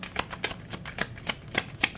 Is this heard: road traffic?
no